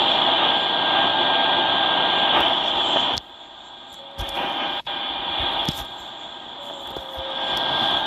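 An airplane's engines roar steadily in flight, a loud continuous drone that drops abruptly partway through, then returns with scattered clicks and thumps over it.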